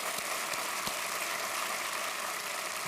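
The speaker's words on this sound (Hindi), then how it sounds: "एक बार तालियों के साथ इनका फिर से स्वागत कीजिएगा।" Studio audience on KBC applauding, a steady, dense wash of clapping that holds evenly for the whole stretch with no voices on top.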